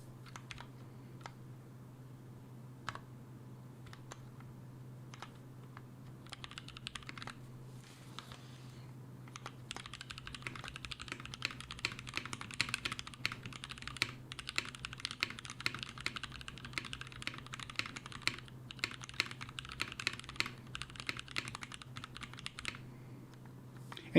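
A mechanical keyboard with switches lubed using laser printer lube being typed on, a steady close run of clicky keystrokes that starts sparse and becomes a dense continuous flurry, over a low constant hum.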